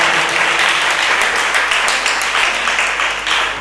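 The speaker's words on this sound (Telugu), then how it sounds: "కొట్టు చప్పట్లు" A crowd claps together through a church sermon gathering, a loud, dense, continuous applause that holds steady for the whole stretch with no voices on top.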